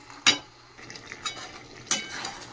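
Marinated chicken being stir-fried in a pan: a quiet background with a faint sizzle, broken by a few sharp metallic clinks and scrapes of a spoon against the pan.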